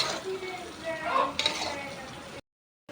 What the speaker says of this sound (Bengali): রান্না করতেছি তোমার জন্য